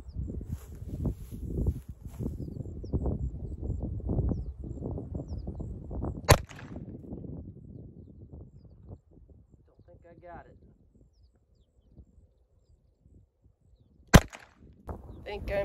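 Two sharp, loud gunshots from a Crvena Zastava M70 police pistol, spaced several seconds apart, the first over steady talk and the second alone in near silence.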